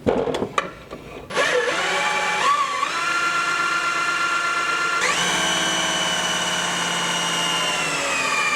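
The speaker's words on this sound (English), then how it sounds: "we're going to use a drill instead of an impact" An electric drill spinning the engine oil pump of a turbo K20 engine starts up in brief bursts, then runs continuously with a high whine that rises in speed partway through, loud and close.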